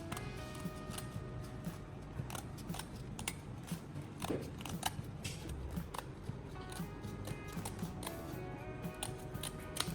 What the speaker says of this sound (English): Carefully cut around the CD's edge using scissors.